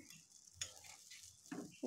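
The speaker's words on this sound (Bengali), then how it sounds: "ফুটে উঠেছে, এখন দিয়ে দিচ্ছি মাছগুলো" Pieces of fish for a Bengali fish kalia, here bata fish, go into boiling spiced curry. A quiet simmer is broken by a few soft plops and splashes near the end.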